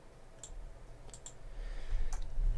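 Computer mouse clicking on a desktop computer running openSUSE with KDE: a few sharp, faint clicks spaced irregularly, one quick double click among them, over a low steady room hum.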